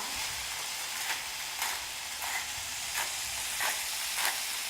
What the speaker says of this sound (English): Now just make sure to stir Garlic.